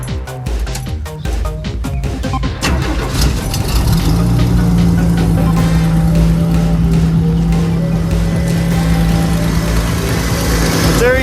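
A Pontiac Firebird engine runs with a slight exhaust leak, starting with irregular popping bursts that settle into a steady, loud, close idle drone.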